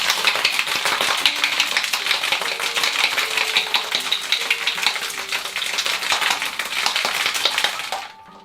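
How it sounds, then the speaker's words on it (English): A lidded cocktail shaker holding a gin cocktail with ice is shaken hard for about eight seconds, a dense, loud, continuous rattle of ice against metal that stops abruptly at the end, with no talk. "Now put your lid on, and now give it a good hard shake"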